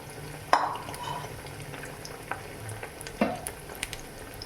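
Coated paneer cubes frying in a pan over low to medium flame for restaurant-style paneer chilli: a quiet continuous sizzle with a few sharp pan knocks and scrapes from stirring.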